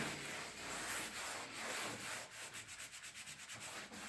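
Hand sanding of a wall during final prep before finishing, a steady abrasive rubbing that turns into quick rhythmic back-and-forth strokes toward the end, close and alone.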